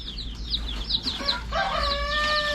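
Young Rhode Island chickens on a farm, a string of soft quick clucks followed by a longer drawn-out crowing call, close and clear over a low background hum.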